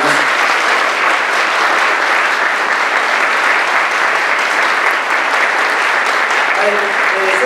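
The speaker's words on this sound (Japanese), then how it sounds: "できれば拍手のお願いしたいと思います。" An audience at a graduation ceremony for a political training school breaks into sustained, loud applause, a dense and steady wash of clapping that continues unbroken throughout.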